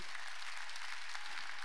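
Church congregation claps steadily at an evangelistic revival meeting, a dense, continuous wash of applause heard from within the crowd, fairly soft throughout.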